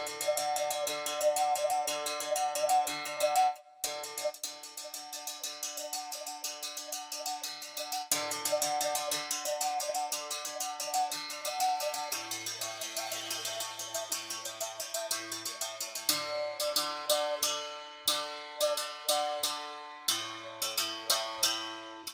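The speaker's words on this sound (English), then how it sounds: "We have tricky hongos, which has a very, very nice sound." A bright, plucked hongos percussion instrument plays a lively, continuous rhythmic pattern of resonant tones with quick repeated strikes, close and clear, no voices.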